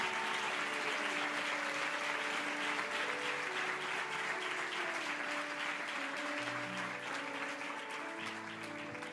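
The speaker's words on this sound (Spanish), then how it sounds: "dale un fuerte aplauso al Señor" A church congregation claps steadily in sustained applause for about nine seconds, dense and continuous, with music or voices faintly underneath.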